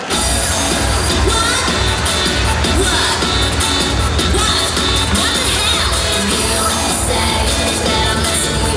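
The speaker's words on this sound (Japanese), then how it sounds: "盛大な拍手でお迎えください" A large audience at the Cure Cosplay Collection meets World Cosplay Summit 2011 event cheers and claps loudly to welcome the cosplayers, a dense, continuous roar of crowd noise with scattered shouts.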